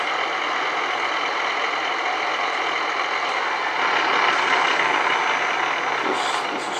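An old truck engine in American Truck Simulator runs as a steady, loud, broadband drone that holds evenly throughout and swells slightly in the middle, with no voices.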